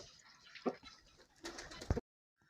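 Pigeons burst into flight with a quick flurry of flapping wings, a couple of sharp fluttering bursts, then sudden quiet.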